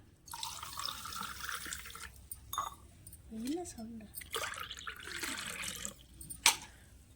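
Running tap water gushes in bursts and splashes into a sink, with a brief voice murmuring in between.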